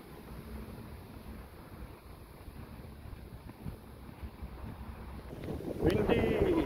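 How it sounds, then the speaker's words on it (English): Gusty wind by a canal in the Century City canal area, a steady low rumble of wind buffeting the microphone, swelling louder near the end, with a voice speaking briefly. "Windy."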